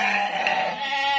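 Sheep bleat in a sustained, wavering cry during a livestock delivery in Blora, Central Java, close and loud over steady background noise, with no talk.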